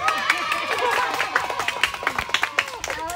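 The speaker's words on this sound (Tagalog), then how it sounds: "Palakpak naman dyan!" A small audience at a family surprise event in Sta. Maria, Pangasinan, applauds with some cheering. The claps start as a full burst, then thin out into separate, distinct hand claps near the end.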